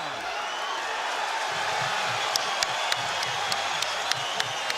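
A boxing arena crowd roars for Shane Mosley during his fight with Ricardo Mayorga, a steady wash of cheering with scattered sharp claps, under faint commentary.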